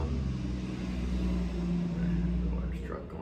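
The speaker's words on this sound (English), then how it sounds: "The large truck going by." A large truck rumbles past, a steady low heavy-engine drone that swells and then fades toward the end, with no talk over it.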